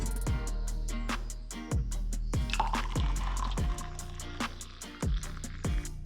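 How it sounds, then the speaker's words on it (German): Hot water is poured for drinking on a rainy bikepacking tour, with repeated glugging pours and rising filling tones that come in uneven bursts, close and clear, and no talking. "Erstmal trinke ich hier heißes Wasser"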